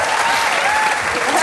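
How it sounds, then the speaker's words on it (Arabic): Studio audience on a television entertainment show clapping loudly and steadily, a dense continuous burst of applause with no talk over it. "واحد اثنين ثلاثة صفقوا"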